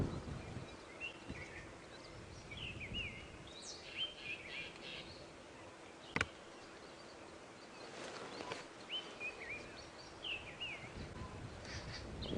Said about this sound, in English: Oh, there's actually a really nice bird party around here.